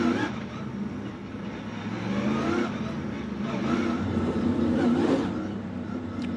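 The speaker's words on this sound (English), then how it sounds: "So you're going to hear them spin the tires." NASCAR stock cars at the Busch Light Clash at the Coliseum spin their tires before a restart, a sustained engine roar that swells and builds, with a voice talking faintly beneath it.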